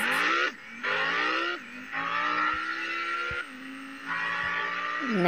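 A car in GTA 5 revs hard and drifts, its engine note climbing and dropping through gear changes with tire squeal mixed in, loud and continuous with no talking.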